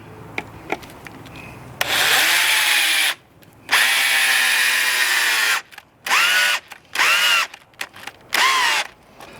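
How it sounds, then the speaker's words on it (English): A cordless drill whirs in several bursts, one long run followed by shorter pulses, close and loud, with quiet pauses between. "Help if I have a good battery in my drill"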